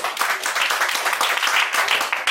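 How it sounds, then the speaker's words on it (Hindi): Applause from a boot camp audience at a herbal products event in Manali, a fairly loud, close burst of many hands clapping with uneven rhythm that continues steadily, no voices on top. "एक जोरदार ताली के लिए"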